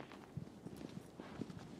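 Horse hooves clip-clop in a steady walking rhythm in Shadow of the Colossus, close and moderately loud, with no talk over them.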